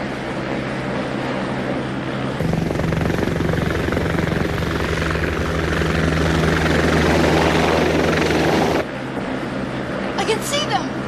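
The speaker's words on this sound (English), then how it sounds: "The TV chopper is passing point D now, sir." A TV news helicopter passes over in a Godzilla film scene, its loud rhythmic rotor thump building and holding for several seconds before cutting off abruptly, with a voice speaking near the end.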